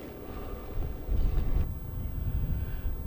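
Wind gusts buffet the microphone at a small seashore cove on a cold, sunny day, a low rumbling roar that swells in the middle and stays steady outdoors.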